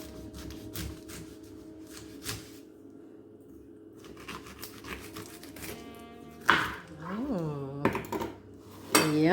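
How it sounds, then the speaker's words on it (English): A sharp knife slices a washed pineapple in half on a kitchen counter, making crunchy cutting sounds and clattery knocks against the board, with some brief vocal sounds near the end. "And I'm going to slice it down in half."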